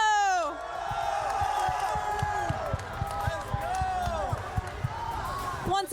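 An esports crowd cheers and whoops for Chino, named Astro Gaming MVP at the CWL New Orleans Open grand finals, with loud sustained cheering, scattered shouts and thumping claps filling the hall.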